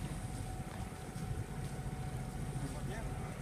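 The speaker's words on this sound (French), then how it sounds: "On a remis le moteur parce que là, on commençait quand même à aller doucement, doucement." Sailboat's motor running while under way at dusk, a low steady engine drone mixed with wind and water noise, moderately faint and continuous.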